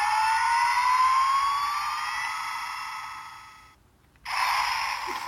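A Thunderbirds Shadow bike toy plays an electronic accelerating effect: a loud synthetic whine that climbs in pitch, fades away, cuts out briefly, then bursts back in strongly.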